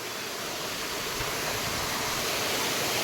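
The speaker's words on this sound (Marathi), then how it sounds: "हा बघा धबधबा." Roaring waterfall on a friends-and-family picnic, a dense, constant wash of falling water filling the whole scene, loud and close with no breaks and no voices.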